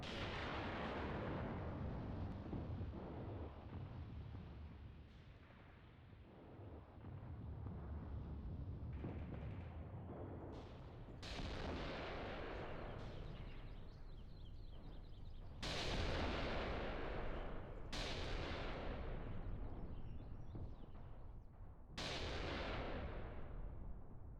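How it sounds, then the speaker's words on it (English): Tank cannon and artillery fire in the Mius Front war game, with a Panther tank firing: deep booming blasts sound one after another over a constant low rumble of battle, several sharp reports standing out near the end, no speech. "friendly Panther firing there with the abandoned tank right next to him"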